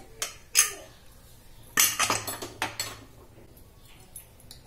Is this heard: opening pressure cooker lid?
yes